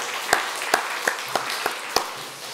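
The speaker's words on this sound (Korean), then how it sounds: "하나님께 영광의 박수 돌려드리겠습니다." Six sharp, widely spaced claps ring out in a church service, each one distinct and fairly close, with no voices over them.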